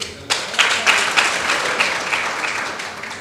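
Audience applause at a Hindi political speech breaks out suddenly and holds steady, a dense wash of many hands clapping at moderate volume in a large gathering, with no voices over it.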